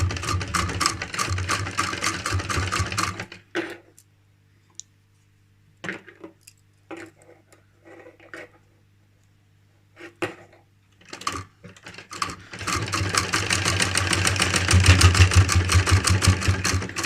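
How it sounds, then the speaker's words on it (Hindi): A sewing machine stitching a cloth face mask runs in fast rattling bursts at the start and end, with quieter fabric handling and small clicks in the pause between. "ऊपर की तरफ से इसी में सिलाई मारेंगे।"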